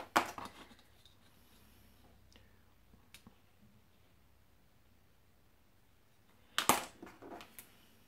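Scissors snip through paper for a handmade card, a few close crisp cuts at the start and a quick cluster of snips near the end, separated by near silence.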